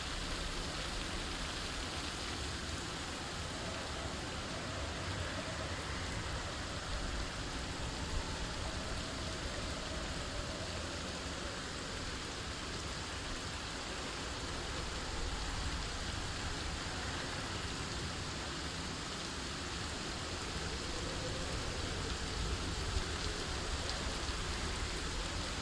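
Steady rain pours in the video game Project Zomboid, a dense continuous hiss that stays even and fairly loud throughout, with wind-bent trees in the scene and no voices.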